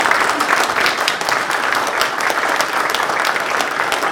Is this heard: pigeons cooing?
no